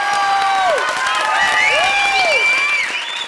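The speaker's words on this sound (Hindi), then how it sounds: "जोरदार तालियां तीनों हीरोज के लिए।" A comedy show studio audience applauds and cheers for three performers, a dense wash of clapping and crowd noise, with bright sliding tones like whistles or stage music riding on top.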